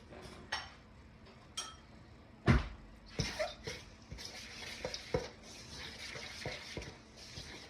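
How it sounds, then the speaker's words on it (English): A mixing spoon works through buttermilk dough for a quick bread in a bowl, giving soft scraping, shuffling strokes punctuated by occasional sharper clinks and knocks against the side, fairly quiet and close. "we stir it until it forms a dough"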